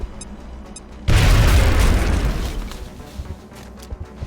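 A frag grenade in XCOM goes off with a sudden heavy boom that rolls out into a long rumbling decay over a few seconds, preceded by faint game beeps.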